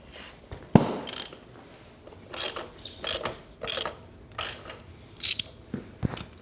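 Several sharp mechanical clicks and pops in quick succession from a cotter pin seating on an off-road go-kart, one louder snap near the start, with no talking.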